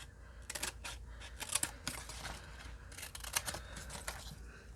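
Scissors snip through small paper tags in a quick series of crisp, faint cuts up close, with clusters of rapid snips separated by brief pauses and no one talking.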